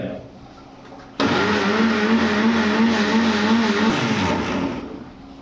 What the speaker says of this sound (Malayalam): നാളികേരം മിക്സിയിലിട്ട് ഞാൻ അരയ്ക്കാൻ പോവുകയാണ്